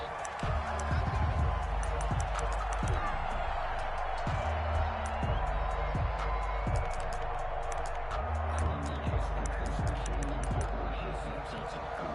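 Stadium crowd in a PS4 American football game, Giants against Washington, a steady roar of cheering with scattered whoops throughout, under almost constant commentary.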